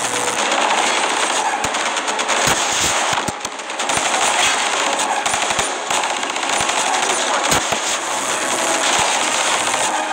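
A machine gun turret in Call of Duty Black Ops 3 fires continuously in long, loud bursts of rapid shots, with some sharper cracks mixed in.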